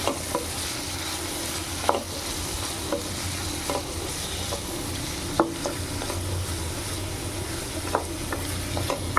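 Vegetables sautéing in a pan for chicken fried rice, a constant frying hiss broken by sharp spatula clicks and scrapes every second or so, close and fairly loud.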